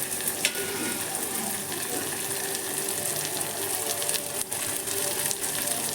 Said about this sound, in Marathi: वाटाणा आणि फ्लावर जो आपण तेलामध्ये व्यवस्थित परतून घेतो